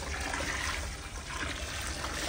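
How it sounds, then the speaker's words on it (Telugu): Water pours steadily into a container on a farm, a dense continuous rushing trickle close by with no pauses and no voices. "దాంట్లో నీళ్లు నింపేద్దాం."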